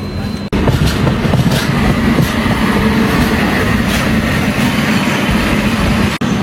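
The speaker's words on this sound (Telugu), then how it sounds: "విజయవాడ అయితే ఎంటర్ అయిపోయింది మన ట్రైన్." The Tirumala Express runs into Vijayawada with a loud, steady onboard rumble and wheel clatter that never lets up, and two brief dropouts break it.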